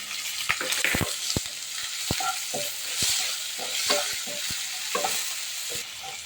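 Chopped onion and green chili frying in a pan: a continuous close sizzle punctuated by repeated sharp spatula scrapes and taps in an uneven rhythm, with no voices.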